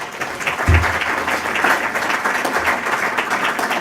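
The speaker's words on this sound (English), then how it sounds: "Can we have a round of applause again?" Audience applause for panel speakers after a Q&A session, a loud sustained burst of many people clapping, with a low thump near the start and a faint murmur under the clapping.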